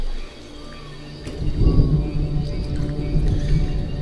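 Thunder from an approaching storm in the video game Detroit: Become Human rolls in as a deep, heavy rumble that swells partway through and lingers at a steady level.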